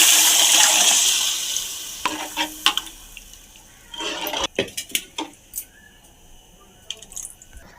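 Tamarind juice mixed with salt, turmeric and chili being poured into a cooking pot for Nellore-style fish curry, a rushing liquid pour followed by several sharp clinks and knocks of vessels, close and fairly loud.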